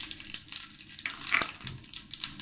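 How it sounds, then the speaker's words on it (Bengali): Dried chillies, bay leaf and panch phoron frying in oil in a wok for a raw banana dhoka, a close, crackling sizzle with sharp pops and bursts of spatter, fairly quiet, no voices. "কড়াতে দিয়ে দিচ্ছি শুকনো লঙ্কা, তেজপাতা আর কিছুটা পাঁচফোড়ন"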